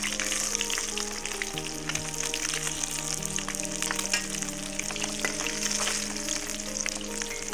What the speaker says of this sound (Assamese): মাছখিনি ভজা হৈ গৈছে